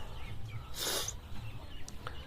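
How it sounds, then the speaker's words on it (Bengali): Native farm chicks on a Bangladeshi homestead give a short burst of high peeping near the middle, then a couple of faint chirps over a low background hum. "আমাদের দেশি মুরগির বাচ্চা বাবা।"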